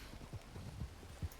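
Horse hooves clip-clop in a steady, uneven walking rhythm, several soft low thuds fairly close but quiet, with no talking over them.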